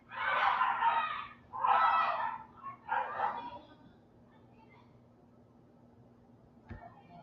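Several dogs bark and yelp in loud bursts indoors, three clustered outbursts over a few seconds that then fade to quiet room tone, with a faint knock near the end.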